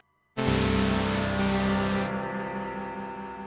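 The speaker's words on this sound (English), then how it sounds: "I think it's not the greatest algorithmic reverb, mainly because, can you hear that kind of metallic ringing" A Dreadbox Nymphes six-voice polyphonic synth sounds a loud sustained chord through its algorithmic reverb, which adds a metallic, gong-like ringing. After the bright attack fades, the tonal tail lingers and slowly decays.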